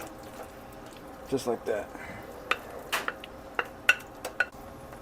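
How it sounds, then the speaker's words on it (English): Ingredients for a jalapeño chorizo dip are dumped into a pan, making a series of soft thuds, clinks and wet plops that come in bursts, while a voice speaks briefly over them. "We're just going to dump everything into this pan."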